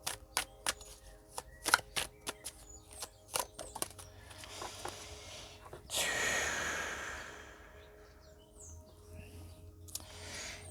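A tarot card deck is shuffled close by in a series of quick, crisp riffles and taps, followed by a softer sliding rustle, with faint whispery sounds in between.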